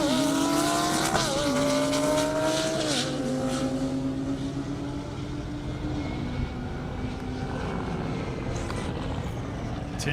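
Race cars including a Lamborghini Huracan and a C8 Corvette at a half-mile airstrip event, engines roaring loud and close with rising, shifting pitch as they accelerate past, then fading to a sustained distant drone.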